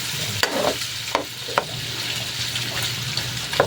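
Chicken fat and liver frying in oil for a dried adobo, a steady close sizzle and crackle with a few sharp clinks of a spatula stirring the pan, no speech.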